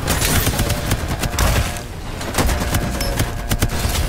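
Rapid automatic gunfire rattles almost nonstop in the Farlight 84 shooter game, loud and dense with brief dips between bursts.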